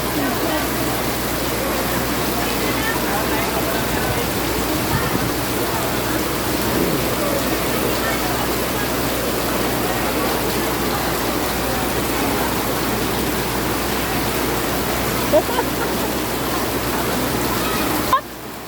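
Heavy rain pours in a continuous dense hiss that stays loud and unbroken for the full length, with a few faint knocks near the end.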